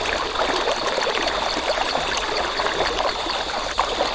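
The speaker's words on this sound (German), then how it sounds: "Das Wasser, das ist zu laut." A loud, rushing stream in the survival video game Dinosis Survival runs as a steady, unbroken hiss of flowing water throughout, with no other sounds on top.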